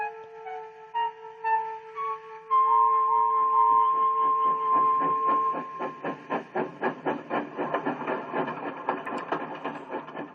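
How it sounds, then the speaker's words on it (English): Steam locomotive blowing off steam: a sustained whistle-like hiss with tonal lines, then rapid rhythmic chuffing bursts building in intensity, loud and close, with no talking. "Henry is gonna blow a lot of steam at these bratty boys."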